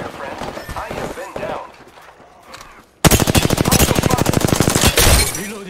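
Rapid automatic gunfire in the video game Apex Legends breaks out suddenly and loud, a fast sustained stream of shots lasting nearly three seconds after quieter muffled battle noise and voices.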